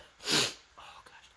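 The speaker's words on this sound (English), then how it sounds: "I'm going to sneeze." A single stifled sneeze from a man, a short hushed burst of breath followed by faint sniffing, close and quiet.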